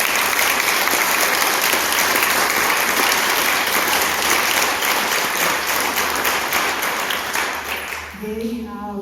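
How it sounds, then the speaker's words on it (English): A large school audience claps loudly and continuously for the counselors, a dense wash of applause that tapers near the end as a voice begins to speak. "I would like to acknowledge with a huge, huge round of applause and appreciation for the counselors in this school."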